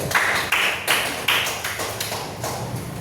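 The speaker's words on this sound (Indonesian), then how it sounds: "Tepuk tangan buat Nabayun dengan Putri." A handful of sharp, separate claps ring out in a classroom, loud and close, spaced unevenly and fading a little toward the end, with no talking.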